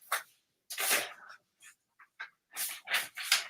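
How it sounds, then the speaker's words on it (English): A dog being handled up close makes a series of short panting and sniffing bursts with brief gaps, fairly near and moderately loud, with no talking. "here's a dog that I'm messing with now"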